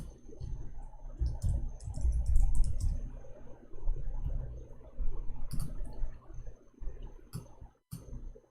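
Keys on a computer keyboard clatter close up in quick, irregular bursts with brief pauses, loud and without any talk.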